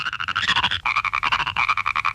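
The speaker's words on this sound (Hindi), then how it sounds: "ये इतने सारे मेंढक, अब मैं क्या करूँ?" Many frogs croak together in a cartoon scene, a dense, rapid, pulsing chorus that is loud and steady throughout with no speech.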